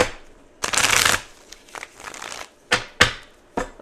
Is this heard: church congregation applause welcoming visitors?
no